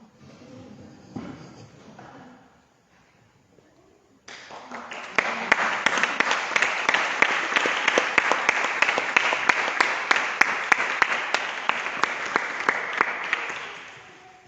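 Enthusiastic audience applause swells suddenly after a quiet stretch with a faint voice, then holds steady with dense clapping before tapering off.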